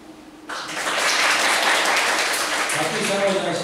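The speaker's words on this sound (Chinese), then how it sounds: "好，大家掌声欢迎" An audience breaks into applause to welcome a speaker at an event, a dense, sustained burst of clapping that starts abruptly and fills the room.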